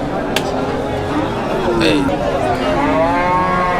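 Cattle moo loudly and repeatedly close by at the Kalampur cattle and goat market, long drawn-out calls over a busy background of chatter and crowd noise.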